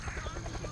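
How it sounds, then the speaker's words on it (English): Helicopter in a VR world video game, a steady whirring rotor drone heard briefly under busy background noise. "Helicopters made it."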